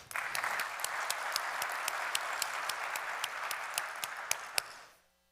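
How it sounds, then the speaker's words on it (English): Audience applause at a real estate conference event, a dense steady clapping from a crowd with a few sharper individual claps, lasting about five seconds before stopping abruptly. "Let's give him another very big round of applause again"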